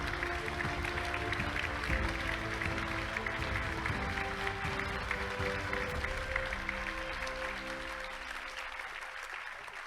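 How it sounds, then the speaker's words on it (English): Sustained, dense audience applause for the class of 2024 INNOVATE medal awardees, loud and steady throughout, easing slightly toward the end. "Please give them a round of applause"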